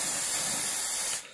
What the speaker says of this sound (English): Just only spray it